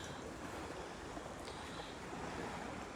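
Ocean waves wash steadily onto a beach at a Sandals Royal Plantation resort, a soft continuous surf hiss with a light breeze and no talking.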